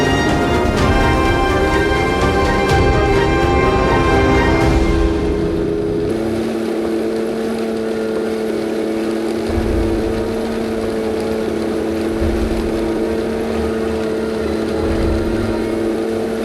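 An RC King Tiger tank model drives outdoors, its electric motor giving a steady, loud whine that rises in pitch early on, then settles into an even hum with a constant tone, running without pause.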